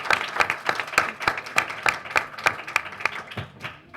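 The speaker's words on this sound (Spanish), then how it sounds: "Un aplauso a nuestras personas que preguntaron" An audience at a university literature colloquium gives a short round of applause, soft and fairly distant, with scattered individual claps, for about four seconds.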